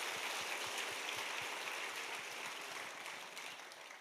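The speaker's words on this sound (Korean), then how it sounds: "다시 한번 큰 박수 부탁드립니다." Audience applause fills a church during a family praise festival: dense, steady clapping that runs the whole stretch and eases off slightly toward the end, with no voices over it.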